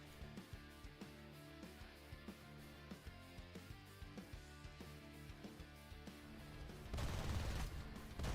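A 30 mm Aden cannon firing in War Thunder, heard as rapid, regular thudding bursts over engine drone throughout, ending in a louder, noisier rush of sound near the end.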